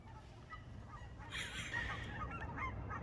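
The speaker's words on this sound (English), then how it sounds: "Those are geese." Geese honking on the water, faint and distant, a scattering of nasal calls over a steady low background rumble, growing a little busier midway with no one talking.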